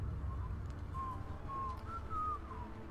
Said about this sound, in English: Now he's whistling the Willamette theme